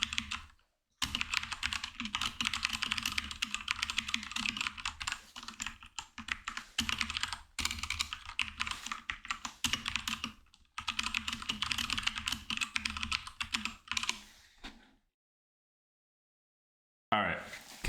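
Fingers type on a computer keyboard in a steady clatter of key presses that runs for several bursts with short pauses, then stops into silence before resuming briefly at the end.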